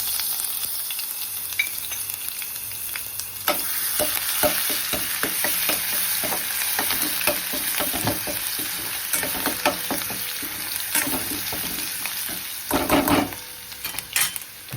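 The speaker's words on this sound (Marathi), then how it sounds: "आता मोहरी, तेल तापलंय माझं, मोहरी घातली आणि हे आलं लसूण पेस्ट घातली" Mustard seeds and ginger-garlic paste sizzling in hot oil in a kadhai, a continuous close hiss punctuated by rapid popping crackles and a few stirring scrapes toward the end.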